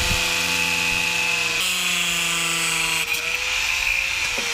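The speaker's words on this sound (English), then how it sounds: "We're going to cut these PVC pieces almost in half." Power tool cutting PVC pieces almost in half while building a prop top for a soft-top Jeep Wrangler roll cage, a steady high whining drone that runs without a break and shifts pitch slightly as the cut progresses, close and loud.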